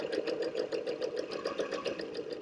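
A sewing machine runs as fabric feeds through it, a rapid rhythmic whirring chatter of needle strokes, close and steady throughout with no talk.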